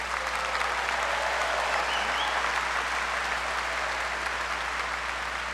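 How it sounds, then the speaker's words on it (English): Sustained applause from a large commencement audience honoring PhD graduates, a dense even wash of clapping that holds steady at moderate loudness for several seconds. "Let's give a round of applause to the PhD graduates."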